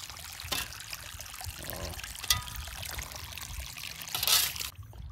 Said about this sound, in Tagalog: Ayan at i-drain ko na rin agad yan, nililipat ko na mga kabukid.